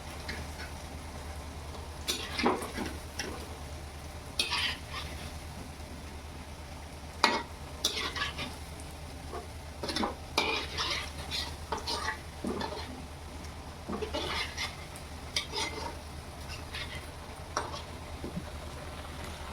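Alu vadi, colocasia leaf rolls, fry in a pan after being flipped, with a soft steady sizzle under repeated clinks and scrapes of a utensil, over a low constant hum.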